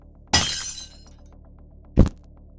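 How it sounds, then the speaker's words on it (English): Glass breaking and shattering as a horror sound effect: a loud sudden crash with tinkling shards trailing off for about half a second, then a second shorter, sharp smash after a pause. "what you all hear is glass breaking, shattering around you"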